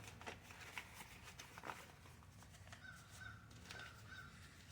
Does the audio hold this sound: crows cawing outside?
yes